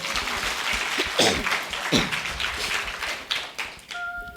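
Audience applause greeting a student's short story reading at a Korean literary broadcast event, a dense spread of clapping at moderate level through the whole stretch, fading out near the end as a faint tone appears.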